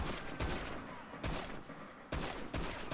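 Heavy pistol shots fired in GTA 5, three loud close reports spaced about a second apart, each with a sharp crack and a rumbling decay.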